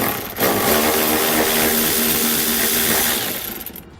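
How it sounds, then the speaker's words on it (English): A power ratchet or impact tool drives a 10mm socket to remove a nut during trailer wiring harness installation on a 2018 Subaru Forester, a loud steady mechanical whir running continuously for about three seconds before trailing off. "we're using a 10mm socket to pull it out"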